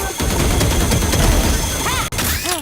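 Rapid bursts of gunfire in a Valorant match, dense and loud with crashing impacts, a brief dropout near the end, and a player's voice shouting over the shots.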